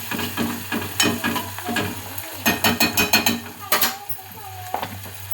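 Onion and tomatoes fry with a steady sizzle in a pan as a utensil scrapes and stirs, making a quick series of rhythmic clinks and scrapes in the middle, close and loud.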